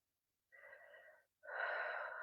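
A deep, conscious breath during a guided relaxation exercise: a soft, airy inhale, a brief pause, then a longer and fuller exhale, close and quiet with no talking.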